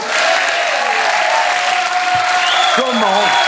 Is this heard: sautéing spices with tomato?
no